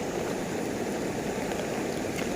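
A stream in the countryside near a village dam flows steadily, with continuous broadband rushing and gurgling water held at an even level and no voices.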